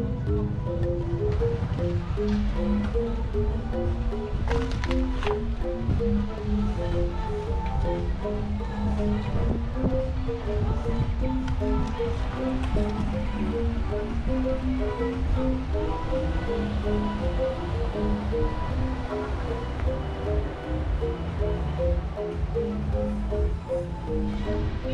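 Ocean surf on the beach at Canggu, Bali, a continuous broad wash of waves under a faint melodic tune, with wind noise and occasional voices mixed in.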